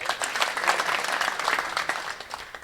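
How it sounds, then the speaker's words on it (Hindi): A crowd at a Haryana political gathering bursts into dense, steady applause that holds at an even level from start to finish. "एक बार भाई साहब के लिए जोरदार तालियां"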